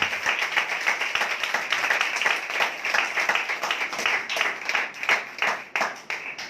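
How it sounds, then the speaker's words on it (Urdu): A church congregation at a Sunday holy communion service claps loudly and rapidly for several seconds, a dense, steady roar of hands that stays strong throughout. "آئیں اس کے لیے زوردار تالیاں بجائیں"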